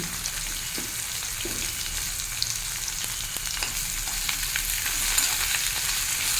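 Snake gourd fries with a little salt in a pan, a loud, continuous dense sizzle holding steady throughout with faint stirring touches underneath.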